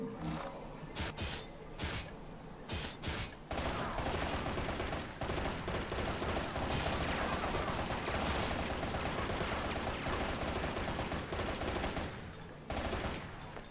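Rapid, dense gunfire from the Bayonetta video game, loud and continuous bursts of shots with brief gaps between volleys, dominating the mix without speech.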